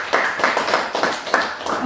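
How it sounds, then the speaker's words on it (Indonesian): A few people clapping together in a classroom to praise a student, a short burst of roughly half a dozen quick, bright claps, close and moderately loud. "Tepuk tangan untuk buat Fadli."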